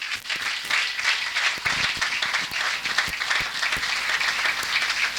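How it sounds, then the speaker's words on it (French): A church congregation in Oyem applauds newly baptized members with sustained, dense clapping from many hands that fills the room evenly from start to finish. "acclamez pour eux vraiment"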